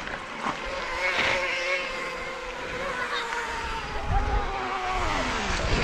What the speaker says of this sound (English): Is that a motorbike, is it?